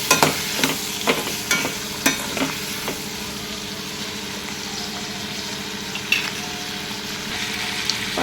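Tomatoes tossed into onions frying in a pan, with a quick run of spatula clatters and taps at first, then a steady low sizzle and hum, close and without speech.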